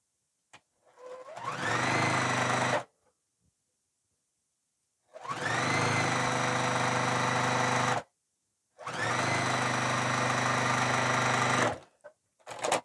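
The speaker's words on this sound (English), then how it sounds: "I'm going to sew a seam from here to here. 1/4 inch seam" A sewing machine stitches a quarter-inch seam in three bursts, each a few seconds of steady whirring with short quiet pauses between, close and clear.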